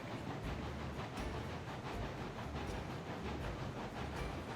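Steam locomotive in the Railroads Online game hauling an oil train at low speed, with steady rhythmic chuffing and rail clatter running continuously under a broad hiss, fairly close and even in level.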